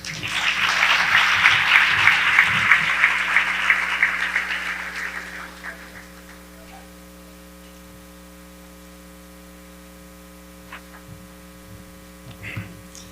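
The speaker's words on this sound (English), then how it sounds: "Can we give them another round of applause?" Applause from a large crowd at a gala swells loudly for several seconds, then fades out, leaving a steady electrical hum with a few scattered claps.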